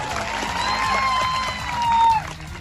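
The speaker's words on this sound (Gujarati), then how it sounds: "બધા માટે એકવાર આપણે જોરદાર તાળીઓ પાડી લઈએ." A large crowd claps and cheers at an outdoor political rally in Vadoth, Chhota Udepur, in a dense, steady burst of applause that swells near the end, with a faint whistle-like tone running through it.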